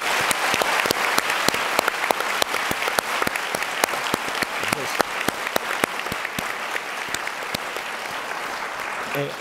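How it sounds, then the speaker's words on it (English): A conference audience claps for three panelists after a fireside chat with industry leaders, with loud, dense applause and sharp individual claps standing out near the front, sustained evenly throughout. "I hope everyone, will give a round of applause to all three panelists."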